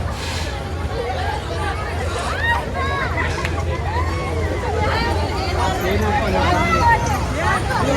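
Dense crowd hubbub at a Sunday village jatra fair in Mhasa, many overlapping voices chattering and calling out nearby, a steady babble that swells slightly toward the end.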